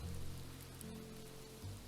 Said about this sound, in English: we get the nice rainy ambiance